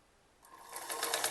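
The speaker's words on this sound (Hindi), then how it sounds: "फिर बाजू मिला के हल्की सिलाई लगा दूंगी" A sewing machine stitching a pleat into a kurti sleeve starts up partway through and runs steadily, its whirring motor building in loudness toward the end, with no talking.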